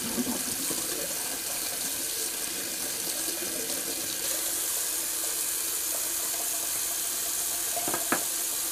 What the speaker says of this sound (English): Drain the sink. Rinse off the old Rex.